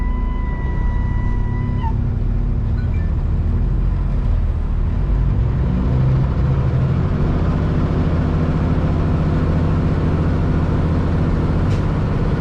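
A heavy truck with an Endurant XD transmission pulls away up a 15% hill, its engine droning low and rising steadily in pitch after an early brief tone, heard from inside the cab.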